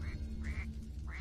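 A bird cries out with three loud, nasal, duck-like calls, one after another over a steady low rumble, with no talk.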